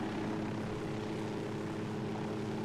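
A helicopter in the video game Ghost Recon hovers near the ground to land, a steady droning rotor and engine roar that stays loud and even, with no voices over it.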